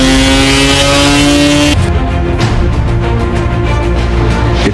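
A Mazda rotary engine revs hard, a loud, buzzy, high-pitched drone that climbs and then drops abruptly into a rougher, lower idle-like burble with rapid pulsing.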